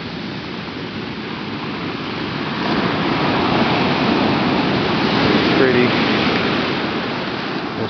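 Ocean surf at Mystic Beach on the West Coast, a steady broad wash of breaking waves that swells louder midway, with a person speaking briefly over it.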